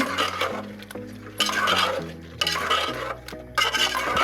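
Ground garam masala and coriander stirred into a pot for chicken biryani, with repeated close clinks and scrapes of a spoon against metal over a low sizzling background.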